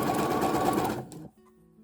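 A sewing machine stitches fold-over elastic onto fabric in one steady, close run of fast motor whirring that stops after about a second, leaving near quiet.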